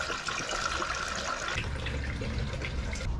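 A small pneumatic vacuum brake bleeder sucks water out of a boat engine, giving a steady close, gurgling, hissing rush of air and liquid that carries on without pause.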